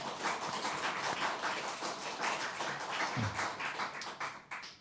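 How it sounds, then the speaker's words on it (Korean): Welcome applause from a church congregation at a Sunday revival service, a steady dense patter of many hands clapping throughout, moderately loud and sustained, with no voices over it. "우리 환영의 박수를 하시겠습니다"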